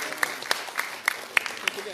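A forum audience at a public library in Miri, Sarawak claps for an introduced dignitary, a scattered patter of handclaps spread through the room with a few sharper individual claps standing out, moderately distant.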